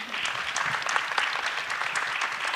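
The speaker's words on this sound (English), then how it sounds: "Give yourselves a round of applause" Steady audience applause, dense clapping from many hands filling the room evenly and loudly throughout, with no voices rising above it.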